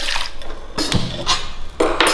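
Roasted moong dal being rinsed in water for payasam, with splashing and clinking bursts of washing against a vessel, close and intermittent, without any talk.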